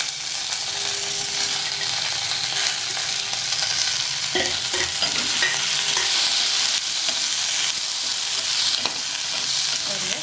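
Cluster beans are stir-fried with onions in a pan for a poriyal: a loud, steady sizzle fills the whole stretch, with scattered clinks and scrapes from stirring in the middle.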